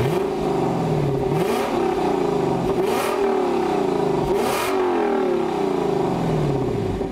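A 2021 Lexus LC 500 convertible accelerates hard, its engine note climbing steeply in pitch through three successive upshifts. Each shift brings a brief drop and a crisp burst before the note climbs again, loud and close.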